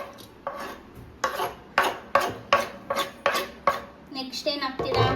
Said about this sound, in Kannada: ಇವಾಗ ನಮ್ಮ ಕ್ಯಾರೆಟ್ ಹಾಕ್ತಿದೀವಿ